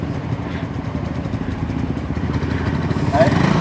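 A kolong-kolong, a motorcycle with a sidecar, passes along a provincial road between San Fernando and Sto. Domingo, its engine a steady, moderately loud clattering drone that swells slightly near the end.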